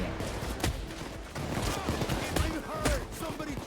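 Sniper gunfire in Payday 2: sharp cracking shots ring out at irregular intervals over busy background game noise, with a voice talking over the action.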